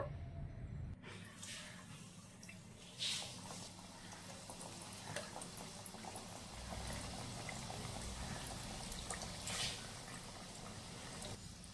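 Raw-potato patties frying gently in moderately warm oil give a quiet, continuous bubbling sizzle with a few soft spatters, steady throughout with no talking.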